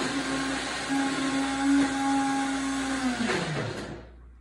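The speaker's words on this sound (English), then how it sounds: "it's being blended right now." A blender whirs steadily, blending a strawberry mango smoothie with heavy whipping cream and vanilla. The close, continuous motor drone winds down and stops near the end.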